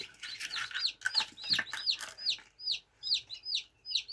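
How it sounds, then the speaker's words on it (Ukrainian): High, thin peeping calls repeat in quick succession, bright upward chirps from several newly hatched chicks close by, with no talking. "Курчатка наші вилупляються."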